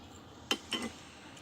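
Two spoons picked up and clinking together, two short bright metallic clicks close up in an otherwise quiet room.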